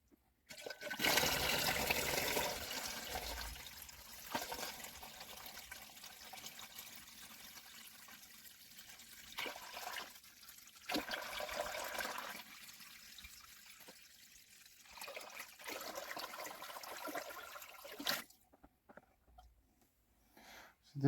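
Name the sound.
water being poured during an aquarium water change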